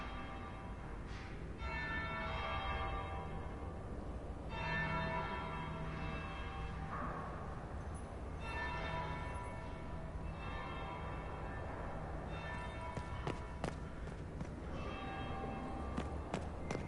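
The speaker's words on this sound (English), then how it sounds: "That would be the second bell." A video game bell rings out in repeated tolls with long sustained tones, the strikes spaced a couple of seconds apart, alongside faint footsteps and ambient room sound.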